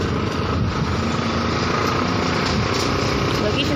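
A large gas cylinder truck passes behind on the road from Perur to Siruvani near a school, its steady, loud engine and road rumble filling the background throughout.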